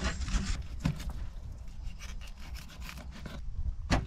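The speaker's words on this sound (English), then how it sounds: "So there's pin bones there you need to cut through." A knife saws through the pin bones of a freshly caught snapper fillet, giving close, rasping scrapes and a few sharp cutting strokes near the start and end.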